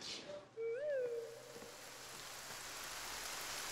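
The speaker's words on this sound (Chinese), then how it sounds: "哎，下雨了，你带伞了吗？" Rain begins to fall and settles into a soft, steady hiss after a brief rising whistle-like tone near the start, faint and without talk.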